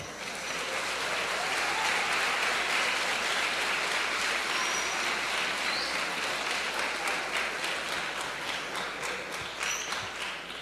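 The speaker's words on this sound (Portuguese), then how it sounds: "Aplauda ao Senhor." A church congregation gives a sustained, dense burst of applause that fills the space and stays loud throughout, with a few faint voices mixed in.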